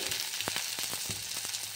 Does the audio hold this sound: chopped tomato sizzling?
yes